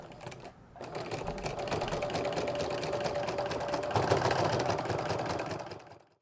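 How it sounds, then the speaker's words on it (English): A sewing machine stitches slowly into the corner of a quilt-as-you-go placemat, giving a steady, close mechanical whir with a faint rapid needle rhythm that runs for several seconds before stopping. "I'm just going to stitch real slow into that corner"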